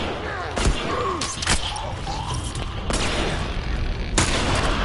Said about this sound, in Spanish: El disparo no fue en vano.